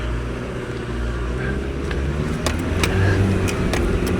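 A car on the muddy Mount Sunday track in bad weather labors uphill with its engine under steady load as the tyres slip, with a continuous rumble and a few sharp clicks and knocks.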